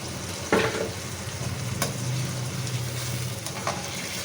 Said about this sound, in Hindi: और ये मसाला भी हम खंगाल के इसमें डाल देंगे।